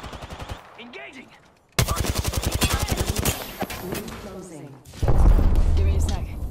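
Rapid automatic gunfire bursts in the video game Apex Legends, loud and close, broken by a short pause and followed by heavier booming fire, with a voice speaking between shots.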